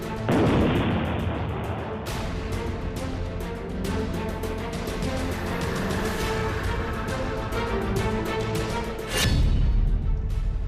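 A blast at the Zojila tunnel construction site, heard as a heavy boom followed by a long rumbling roar with crackling debris, and a second loud thump near the end.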